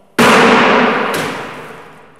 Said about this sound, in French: on a une explosion.